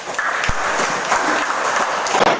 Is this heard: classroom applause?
yes